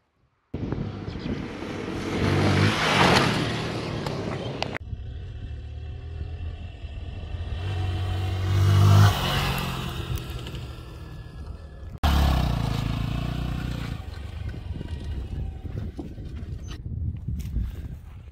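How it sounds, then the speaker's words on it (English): SYM NHT 200 motorcycle with a quiet exhaust riding farm roads, its engine a steady moderate drone that swells and eases over about eighteen seconds with an abrupt cut midway, no talk. "The bike's fitted with a nice quiet exhaust system as well, so you're not going to upset the neighbors"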